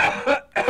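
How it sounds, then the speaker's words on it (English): A person coughs close by in a few rough, raspy bursts, with a brief pause before the last one. "maybe you should do something about that cough"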